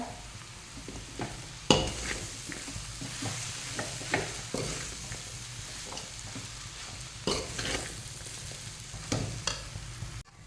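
Vermicelli upma being stirred in a pan at home, a spoon scraping and clacking against the pan in irregular strokes over a soft, steady sizzle, close by and moderately quiet.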